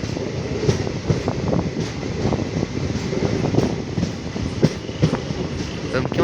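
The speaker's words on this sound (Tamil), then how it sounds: "இந்த ட்ரெயின் ஒரு சூப்பர் ஃபாஸ்ட் எக்ஸ்பிரஸ்" Tambaram–Ernakulam superfast express train running along the line, a close, continuous rumble with rhythmic clickety-clack of wheels over rail joints and intermittent bumps throughout.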